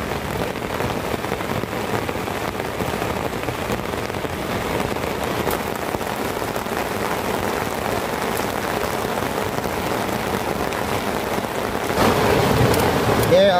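Heavy rain drumming on an old tent while camping, a dense continuous downpour that swells slightly louder near the end, close and enveloping, with no talk.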